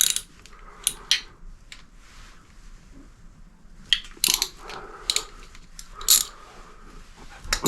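Oil filter cover bolts on a Suzuki TU250X motorcycle are loosened with a wrench, giving scattered sharp metallic clicks and ratcheting ticks close by, separated by quiet pauses.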